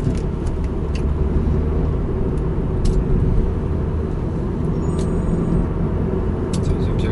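A manual-transmission car driven at fairly high RPM gives a steady, close engine drone with low rumble and road noise, and a few faint clicks sit on top.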